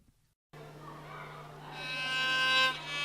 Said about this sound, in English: Now you can play the pentatonic scale in C.